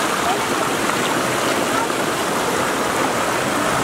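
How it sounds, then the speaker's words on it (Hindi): Steady rushing water of the Rani Dehra stream from the Maikal mountain range, where it becomes a waterfall. A loud, continuous flow fills the whole span without pause. "पानी के कलकल की आवाज़ और प्राकृतिक दृश्य"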